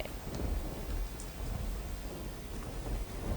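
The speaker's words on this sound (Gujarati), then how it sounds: "ફરી એક વખત અમદાવાદમાં વરસાદી માહોલ જામી ગયો છે" Steady rain falls on surfaces in Ahmedabad with low rumbles of thunder rolling underneath, a continuous wash of even, moderately loud noise with no voices.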